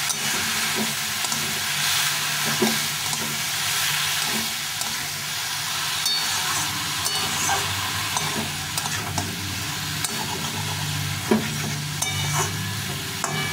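Ash gourd sizzles steadily in a hot pan while a utensil scrapes and stirs it in short, irregular strokes. The frying is close and continuous, with no talking.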